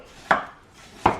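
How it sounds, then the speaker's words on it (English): Two separate sharp knife chops on a cutting board land about three quarters of a second apart, close and crisp, with quiet between them. "I'm just going to chop it like that"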